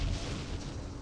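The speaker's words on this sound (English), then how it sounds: "Is that a recoilless rifle?" A recoilless rifle firing in a Middle East war game, heard as a dense, sustained, rumbling blast filling the whole moment with no voices.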